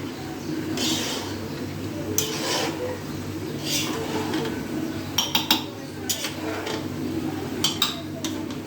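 A spoon stirs basmati rice into boiled chicken in a metal pot for chicken biryani, giving scattered clinks and scrapes over a low kitchen hum, with a quicker cluster of sharp taps near the end.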